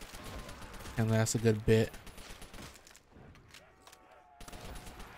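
MP40 submachine gun in a zombies game map, one short rapid burst of automatic fire followed by quieter game noise, with a voice speaking briefly.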